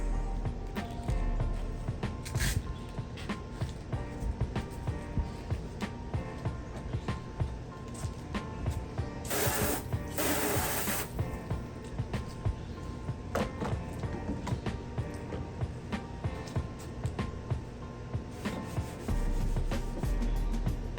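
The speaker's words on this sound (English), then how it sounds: "So you wanna do your sandpaper and your 1000 grit." Wet sanding of a 2006 Toyota Tundra headlight lens with 1000 grit sandpaper: steady, continuous close scrubbing strokes with a brief louder hissing burst midway, no talk.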